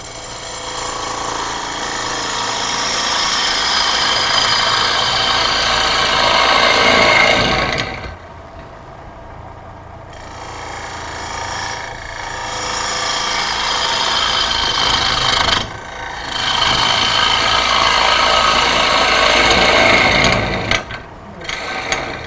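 A wooden chip'n'dip bowl being cut on a lathe gives a harsh, continuous scraping and cutting noise in long passes, with brief pauses between cuts.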